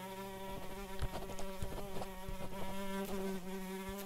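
A housefly buzzing close by, a steady, high droning hum with wavering pitch and small bumps as it moves, faint and alone.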